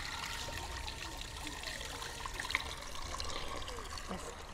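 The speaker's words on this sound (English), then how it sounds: "this is the shrine of St Anne, or St Anne's Well, where this is the spring water that comes out." Spring water runs from St Anne's Well in Buxton, a soft, steady trickle and splash heard close but quietly throughout.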